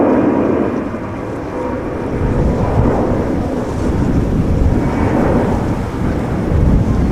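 A TUI Boeing 767 departs Amsterdam Schiphol, its engines making a loud, rumbling roar that swells and eases in gusts, close and unbroken, heard alone.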